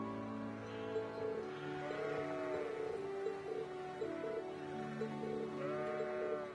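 Sheep in the game Trails of Cold Steel bleat repeatedly in wavering, overlapping calls, moderately close, with soft music-like tones underneath and no talking.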